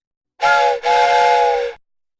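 A steam whistle blasts loudly in two close bursts, a short toot followed straight away by a longer sustained tone, its hissing harmonic chord cutting off cleanly into silence.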